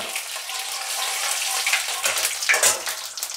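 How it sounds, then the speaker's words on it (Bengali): Bay leaves, dried red chilies and whole cumin sizzle steadily in hot oil for a kohlrabi curry, a close, continuous crackling fry with a few brighter spits toward the end and no talking. "তেলটা গরম হয়ে গেছে, প্রথমে 3 তেজপাতা দিয়ে দিলাম, তার শুকনো লঙ্কা দিয়ে দিলাম, আর একটু গোটা জিরে 1 টিস্পুন"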